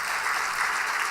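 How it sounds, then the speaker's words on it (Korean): A church congregation at a midweek evening service claps together, a brief burst of dense, steady applause filling the room without any voices over it. "우리 박수 한번 다시 한번 하십시다"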